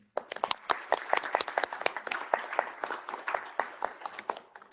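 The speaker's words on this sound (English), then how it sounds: "So a big applause to all of you." Audience applauding a project team at a policy-sharing meeting: dense, irregular claps of a modest crowd fill the room evenly for several seconds at moderate distance, with no voices over them.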